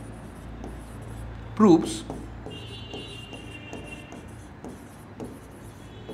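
A pen scratches out a handwritten chemistry answer on paper, with faint intermittent strokes and one brief louder scrape, all under a person talking throughout.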